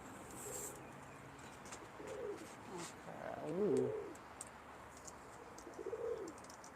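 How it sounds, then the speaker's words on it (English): Pigeons coo softly in a park in the morning, with several low throaty calls spread over quiet outdoor ambience, and a person briefly murmurs. "I hear pigeons."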